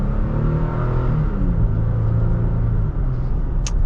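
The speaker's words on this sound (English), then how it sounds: "let's get our acceleration here with the Tacoma" A 2021 Toyota Tacoma TRD Sport pickup accelerates, its engine rumbling and revving steadily under load, loud and close, with the tone climbing as the truck pulls.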